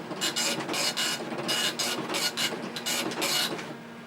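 A printer attached to a Tandy Color Computer prints in rapid mechanical bursts, with about a dozen rhythmic buzzing passes separated by short pauses, loud and close, with no talk.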